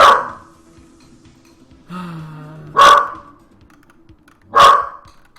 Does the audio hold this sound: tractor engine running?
no